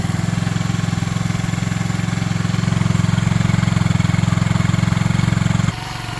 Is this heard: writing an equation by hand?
no